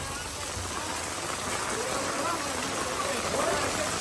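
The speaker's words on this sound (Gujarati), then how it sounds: "ઉંટાડા ગામમાં મુસળધાર વરસાદ પડ્યો છે" A heavy downpour pours over a village, a dense steady hiss of rain striking surfaces that fills the scene at constant loudness. Faint voices may sit under the rain.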